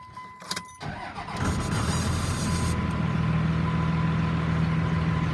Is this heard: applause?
no